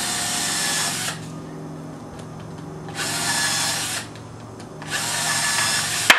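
A power drill whirs into a wood board in three bursts of a second or so each, pre-drilling screw holes, separated by short pauses, loud and close.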